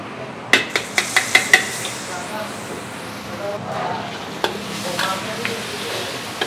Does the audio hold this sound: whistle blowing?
no